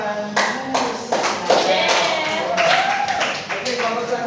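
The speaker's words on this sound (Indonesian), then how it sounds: "Oke, kasih tepuk tangan." Classmates in a high school economics classroom give a round of hand claps, the brisk applause running for a few seconds close by, with talk mixed in.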